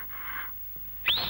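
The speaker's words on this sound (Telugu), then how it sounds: "3వ విజిల్ వేసేస్తా" A whistle blown to summon someone in a Telugu film scene: a soft sustained whistle note at the start, then a sharp, loud rising blast near the end, with no talking.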